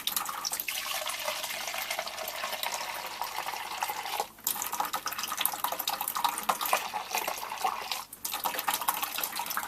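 A sample of bitter wort for a home-brewed pale ale is drawn off, a continuous close stream of running liquid with two brief interruptions where the flow stops and restarts.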